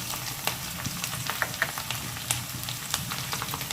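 Grated carrot and beetroot with curry leaves and turmeric fry in a pan, giving a steady close sizzle broken by light scraping stirs, with no talking.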